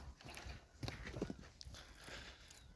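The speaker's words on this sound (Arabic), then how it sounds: "حصان قافل جديد اهو" A horse, a new colt, walking with hooves clip-clopping at a steady pace, the impacts fairly close amid outdoor noise and faint background activity.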